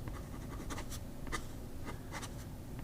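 A fine-nib Pen BBS 355 scratches across a writing mat in short, close strokes, each one a soft, dry scribble over a quiet background.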